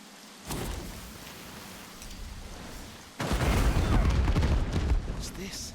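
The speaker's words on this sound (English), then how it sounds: "We set up the traps. Come on. Just to see the big explosion." Trap explosions in the video game Divinity: Original Sin 2 go off as a soft thump, then a louder rumbling, crackling blast that rolls on for a few seconds without talking.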